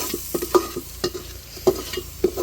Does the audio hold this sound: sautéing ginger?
yes